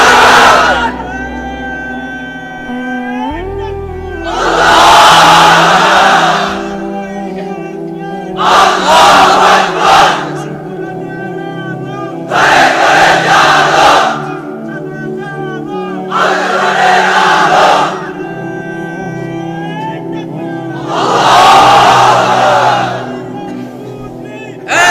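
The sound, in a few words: crowd of unmarried men chanting takbir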